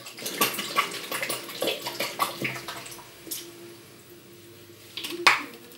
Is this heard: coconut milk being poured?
yes